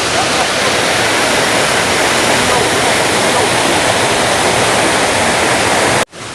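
The three-tier Dabanggre waterfall in West Garo Hills, Meghalaya roars as a loud, dense, unbroken wash of falling water that cuts off abruptly near the end.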